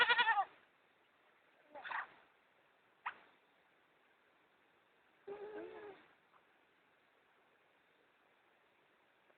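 A goat bleats several times in short, separated calls, loud and close, with near-silent gaps between them and no talking.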